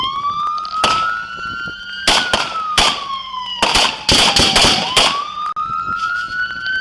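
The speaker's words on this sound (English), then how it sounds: "Shots fired! Shots fired!" Gunfire during a police shootout with a domestic dispute suspect, loud close sharp cracks in irregular bursts, some shots in quick clusters, over a wailing police siren that rises and falls throughout.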